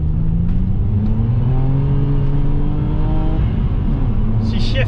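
A Vectra fitted with a hybrid turbo pulls hard, its engine note climbing steadily and then dropping at a gear change before rising again, loud and continuous from inside the car.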